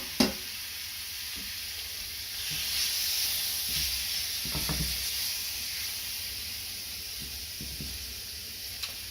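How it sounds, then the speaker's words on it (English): Shrimp slid into a medium skillet for keto creamy shrimp Alfredo start frying with a soft, steady sizzle and hiss. A few light clinks and taps of the pan sound faintly over it, with no voices. "So we're just going to slide them all into the pan, and we're using a medium-sized skillet for this."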